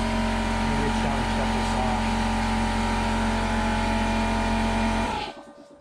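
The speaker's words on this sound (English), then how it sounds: "I apologize for the compressor noise" An air compressor drones loudly and steadily at close range, then is switched off and winds down quickly near the end, leaving near silence; a voice speaks over the running motor.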